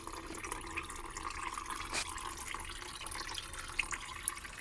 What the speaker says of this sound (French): vous laissez couler le liquide jusqu'à temps que ça se vide